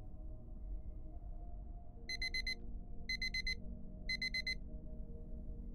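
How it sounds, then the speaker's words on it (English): An alarm clock beeps in three evenly spaced bursts of rapid, high electronic chirps over a steady low hum. "By the time his alarm rang"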